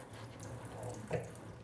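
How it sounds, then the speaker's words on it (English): Tap water runs briefly over houseplant leaves, a soft, close splashing trickle that is quiet and short. "I do want to rinse the leaves a little bit though."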